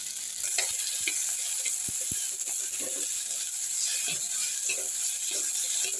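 Onions, garlic, tomatoes and green and dried red chillies sauté in a pan with a steady bright sizzle, with scattered clicks and scrapes of stirring throughout and no talk.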